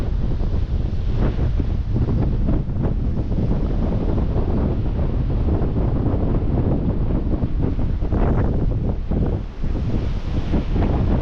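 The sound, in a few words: cold wind blowing at a mountain lookout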